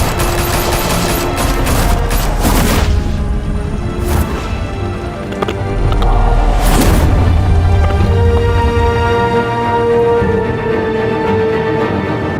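Gunfire in the video game Batman: The Telltale Series, dense bursts of automatic fire and rapid shots crackling loudly in clusters over a rumbling score, with several heavy blasts standing out.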